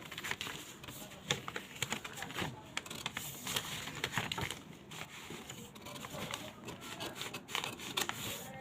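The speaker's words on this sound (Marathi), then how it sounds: "सुरुवातीला पाठीमागचा मुंडा तो कट करून घ्यायचा आहे आपल्याला" Scissors cut through blouse fabric up close, giving a soft continuous rasping and snipping with scattered crisp clicks at a steady moderate level.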